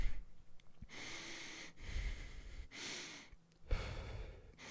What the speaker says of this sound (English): I just automatically switched to mouth breathing.